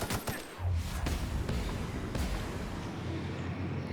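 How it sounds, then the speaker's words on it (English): Gunfire and explosions in the video game The Outer Worlds: a scatter of sharp cracking bursts and a thudding blast over a noisy, rumbling battle bed at moderate volume. "Look at that explosion."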